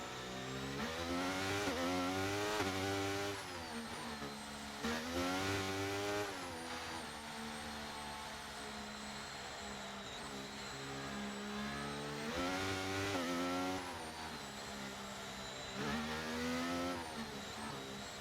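Formula 1 cars race on a street circuit in the F1 23 video game, their engines screaming and rising in pitch through repeated accelerations and gear changes. The engines are loud and continuous, with several cars heard together and no commentary.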